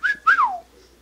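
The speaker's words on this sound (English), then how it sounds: "he can whistle" A pet bird whistles two quick rising-then-falling notes close by, a short bright call followed by a longer sliding whistle, alone with no talking.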